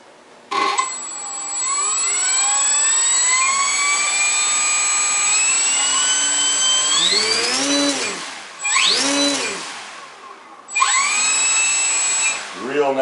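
Electric motor of a Parkzone Sport Cub RC plane with an aluminum spinner spins up to a loud, steady high-pitched whine. The pitch rises and falls as the throttle changes, then the motor cuts and restarts with another surge near the end.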